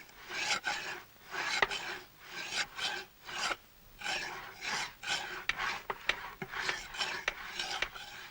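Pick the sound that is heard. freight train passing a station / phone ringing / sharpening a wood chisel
sharpening a wood chisel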